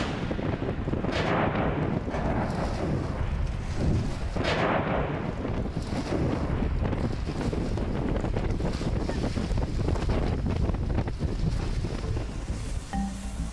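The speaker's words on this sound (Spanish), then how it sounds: "Hans Mohr puede situar la carga explosiva." An underwater explosive charge detonates a sea mine, heard as a dull roar under heavy wind and wave noise at sea, with muffled thumps early on.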